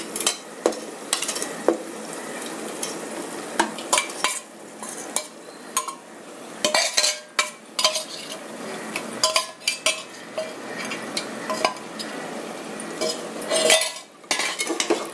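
Marinated chicken added to a pan of frying masala and stirred, with repeated metal spoon scrapes and clinks against the pot over a soft background sizzle, close and fairly busy throughout.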